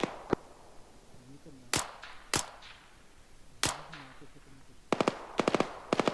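Video game gunshots crack out as sharp, loud isolated bangs spaced a second or so apart, ending in a quick cluster of four or five shots, with voices talking in between.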